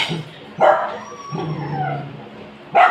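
Several dogs bark noisily in short bursts, two sharp loud barks at the start and end with softer whining yelps between them, fairly close and without speech.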